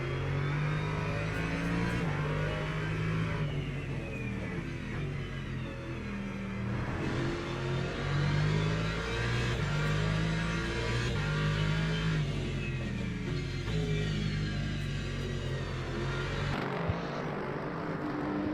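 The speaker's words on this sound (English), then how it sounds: "Listen to that thing. Sounds like a tractor as they zip it down the straight." A loud GT3 race car engine in a sim racing game drones and revs continuously at Fuji Speedway, gear changes shifting its pitch as it speeds along, with no one talking.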